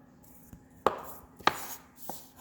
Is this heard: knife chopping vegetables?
yes